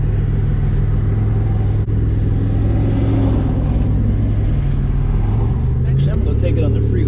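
A 1987 Buick Regal T turbo engine runs steadily at close range, a low smooth rumble with a constant drone, rising a little near the end, while people talk over it.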